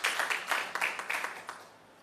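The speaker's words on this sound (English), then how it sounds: "Can we give him a round of applause," Applause from a health research conference audience, a short burst of clapping that swells briefly and then thins out toward the end.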